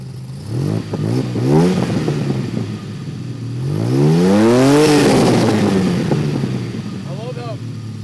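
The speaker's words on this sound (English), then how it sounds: "let's get a few revs out of it" A restored 30-year-old DeLorean engine is revved twice from idle, each rise climbing and falling back, the second longer and louder, then a brief blip at the end.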